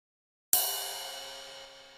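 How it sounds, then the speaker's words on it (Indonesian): A single ride cymbal hit on a real drum kit, a bright metallic strike that sustains with a long, gently decaying shimmer, fairly quiet and isolated. "Kemudian ketuk ride."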